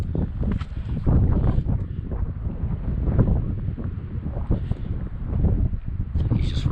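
Wind blowing at a wooded cliff overlook above the Susquehanna, buffeting the microphone in low, uneven gusts and rumbles throughout, with faint rustling.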